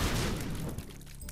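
Bombs going off in The Binding of Isaac: a dense, booming explosive burst at the start that rumbles and decays over about a second, loud and close with no talk.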